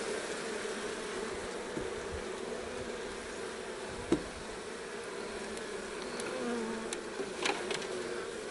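Honey bees swarming around an open hive frame, a continuous close, steady buzzing drone with individual bees flitting past the listener.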